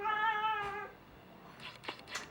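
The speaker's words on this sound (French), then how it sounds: "Ça, c'est le chat." A house cat gives one clear, drawn-out meow up close, followed by faint shuffling and rustling in a quiet indoor room.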